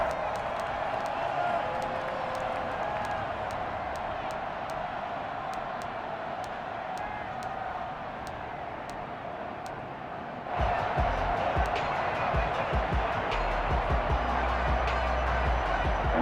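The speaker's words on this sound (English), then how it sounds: "The crowd getting into it as we come up on a big third down." A stadium crowd in an NFL American football video game, Cowboys versus Cardinals, roars steadily in the background, then surges louder near the end as the noise builds ahead of a big third down, with commentary over it.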